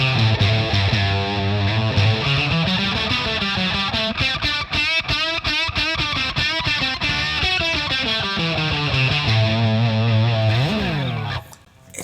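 An electric guitar played through a Boss DS-1 distortion pedal with the gain backed off to about nine o'clock rings out in loud, sustained chords and notes, then cuts off sharply near the end.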